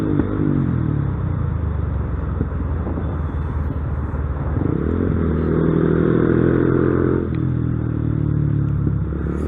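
Honda NCB150R motorcycle with road-race style modifications revving hard at full throttle, a loud continuous engine roar that rises in pitch around the middle and holds steady, close by, with no talk.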